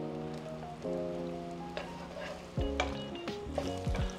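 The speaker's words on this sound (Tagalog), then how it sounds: "We'll add the garlic." Garlic sizzles in a hot pan for fried rice, a close, bright frying crackle with stirring scrapes and clinks of a utensil against the pan.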